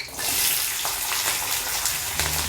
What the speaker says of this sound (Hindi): बीन्स को भी आप ऐसे ही चला चला के फ्राई करके अब निकाल लें।